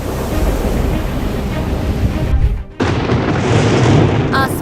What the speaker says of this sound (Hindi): समंदर में उठ रही तूफानी लहरें,